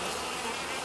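Honeybees gathered at a feeder taking syrup for autumn feeding, a dense steady buzzing hum heard up close, continuous and unbroken, with no voices over it.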